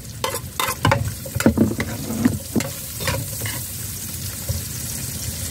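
Onions sauté in a pan for pork adobo, with a soft steady sizzle broken by repeated scraping clatters of a spatula stirring against the pan, close up and with no talking.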